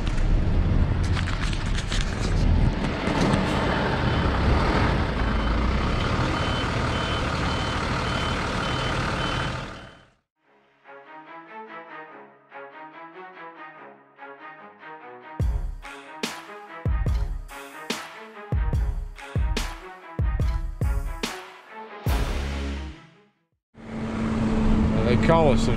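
A tow truck loads a Honda CR-V in a parking lot: loud engine and hydraulic rumble first, then a quieter stretch of rhythmic reversing beeps with bursts of mechanical clanks, and the engine noise returns at the end.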